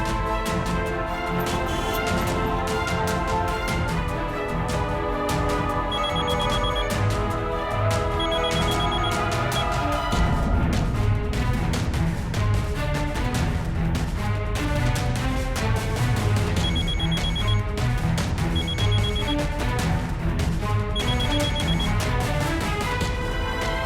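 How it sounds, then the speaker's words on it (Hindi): A telephone bell rings repeatedly and loudly at a steady cadence, with music running underneath through a Hindi TV drama scene. "कौन है जो तुम्हें बार बार डिस्टर्ब कर रहा है? उठा लो ना फोन।"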